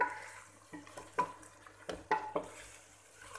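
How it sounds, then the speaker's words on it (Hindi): A spoon stirs masala for kaleji (liver) masala frying over high heat. Soft scrapes and clinks come in an irregular rhythm over a faint low hum and quiet sizzle. "तकरीबन 2-3 मिनट इसको हम भूनेंगे तेज़ आंच पे और चमचा चलाएंगे साथ साथ।"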